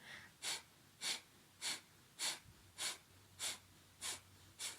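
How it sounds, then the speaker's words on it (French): Kundalini yoga breath of fire: sharp, forceful nasal exhalations pumped from the navel in a fast, even rhythm, about nine bursts close and clear with no talking. "Et puis on va venir faire la respiration du feu."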